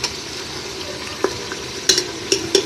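Onions sautéing over medium heat for a stew, a steady soft sizzle with a few brief scrapes and clinks of stirring near the end.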